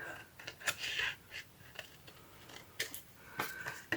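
Scissors snip through paper with a handful of crisp, close cuts spaced irregularly, quiet overall with soft rustling between snips and no talk.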